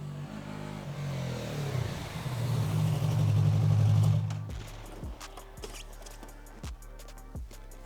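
A Yamaha MT-03 motorcycle rides in on a race track, its engine swelling to a loud, close rumbling pass, then dropping to a lumpy idle with a few brief blips.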